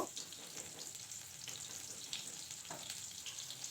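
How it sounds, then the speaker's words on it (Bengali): Chopped onion fries in oil with nigella seeds for a fish curry, a soft, steady close sizzle with a few light stirring scrapes and no talk. "পেঁয়াজটা একটু হালকা নাড়াচাড়া করে নেব।"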